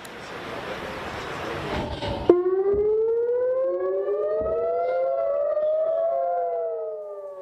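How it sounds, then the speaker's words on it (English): An air raid siren sounds over the town of Nahariya in northern Israel during rocket fire, its tone sliding steadily upward and sustained for several seconds after a burst of broadband noise, loud and alone. "Explosions and air raid sirens were heard over the town of Nahariya"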